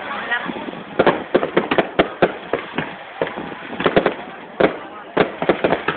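Fireworks launched at a Vietnamese ethnic cultural village, a dense run of sharp pops and crackling bursts in quick irregular succession, loud and fairly close.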